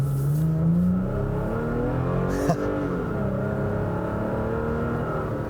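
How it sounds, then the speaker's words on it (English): A Toyota Tacoma TRD Pro pickup with a TRD Sport exhaust revs up, a loud, steady engine drone with a rising pitch sweep and a brief blip midway, close to the microphone. "Really love that TRD Sport exhaust."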